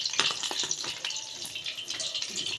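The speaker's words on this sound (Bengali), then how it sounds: "বাকি পিঠাটাও আমি এইভাবে ভেজে নেব" Mung dal pitha fry in hot oil with a bright, crackling sizzle and bubbling, close by, with a few light utensil knocks.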